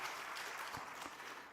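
Church congregation applause during Sunday worship, a faint, steady patter of many hands clapping at a distance, with no speech.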